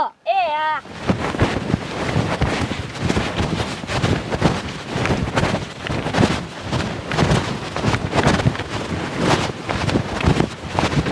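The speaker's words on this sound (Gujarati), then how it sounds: "આ પવન એટલો જોજે ઉડી ન જાતો" Strong wind blows outdoors, buffeting the microphone in loud, continuous gusty roars that surge and ease without pause, after a brief vocal sound at the very start.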